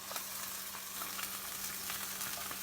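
Turkey queso burger patties sizzle in a frying pan, a steady close hiss of crackling fat with faint pops and a low hum underneath, no talking.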